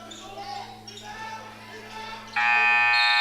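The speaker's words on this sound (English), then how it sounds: "It was after the buzzer." An end-of-half buzzer blares loudly in a high school basketball gym during a PSAL Brooklyn quarterfinal. It cuts in abruptly after ball bounces, squeaks and talk, then holds as a sustained harsh tone.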